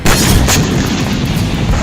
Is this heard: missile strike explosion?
yes